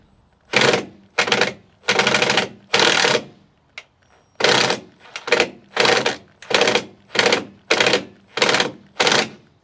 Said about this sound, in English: Now I'm gonna come back with the self-tapping screws